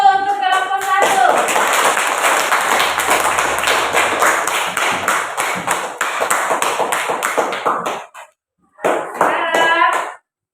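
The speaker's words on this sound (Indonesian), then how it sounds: "tepuk tangan dulu untuk kelompok 1" Classroom applause for a group of students after their presentation, about seven seconds of steady, close clapping from many hands, with brief voices just before and after.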